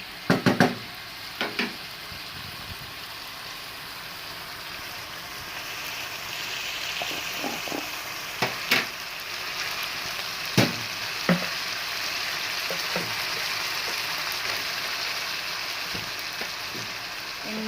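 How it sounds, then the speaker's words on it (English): Braised pineapple chicken fries in a pan with a continuous soft sizzle, while a utensil stirs it with scattered scraping clicks and taps, moderately close and without talk. "We stir for a while."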